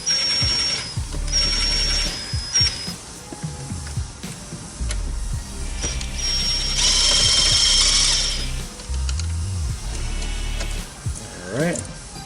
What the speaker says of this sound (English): We're going to take these 2 screws out right here as well.